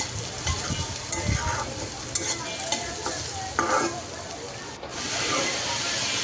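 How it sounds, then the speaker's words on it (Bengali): Snakehead fish fries in a pan with a constant loud sizzle and hiss, broken by occasional clatter and stirring scrapes, and the frying swells near the end. "মাছটাও ভাজা হচ্ছে।"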